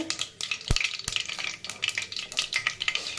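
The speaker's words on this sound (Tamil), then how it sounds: "கடுகு பொரிச்சு வந்துருச்சுங்க. இப்போ கேட்குதுங்களா?" Mustard seeds sputter and pop in hot oil for a vegetable rice dish, giving a dense crackling sizzle with sharp, irregular bursts close to the pan; no voices.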